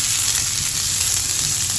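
Chopped onion sizzling steadily in hot oil for tempering, a bright crackling hiss that holds at an even level, with no talking.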